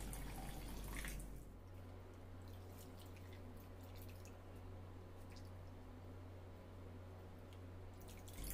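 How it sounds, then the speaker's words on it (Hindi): Chhena (paneer) being washed in clean water, with soft drips, splashes and squishing of wet curd, quiet and close, alongside a low steady hum. "अब हम इसे 2 बार अच्छे से 2-3 बार साफ पानी से धोएंगे।"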